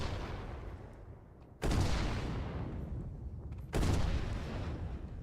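Two heavy booming blasts from the Hellish Howitzer, a large-calibre weapon in the game Revulsion, fire about two seconds apart, each sharp onset trailing into a long rumbling decay with no voices.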